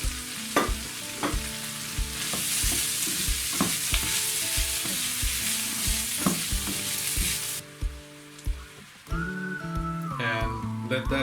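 Brussels sprouts, carrots and cabbage fry with spices in a pot, a loud continuous sizzle under repeated scraping stirs, with a tonal whistle-like hum rising near the end.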